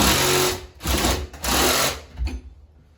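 A power drill bores a hole in a plaster wall to mount a light, with metal wire behind the plaster. It whines in three close, loud bursts, each revving up and cutting off, followed by a short quieter tail.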